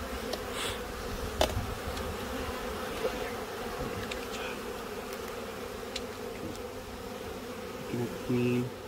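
Honey bees buzzing steadily around an open beehive during hive inspection, a dense continuous hum with individual bees passing close, faint handling noises underneath.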